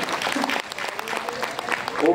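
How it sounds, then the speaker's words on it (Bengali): Audience members clap for a tabla player at a devotional music gathering, uneven handclaps rising and falling over a couple of seconds, mixed with voices talking nearby. "তবলজি"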